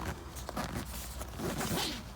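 A heavy-duty tent door zipper on a bug mesh door pulled in several rough, scratchy strokes, close by and fairly quiet, with no talking.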